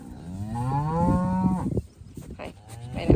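Cattle at a farm during morning feeding chores: one cow lets out a long, deep, close moo lasting over a second, followed by quieter shuffling and a brief bump.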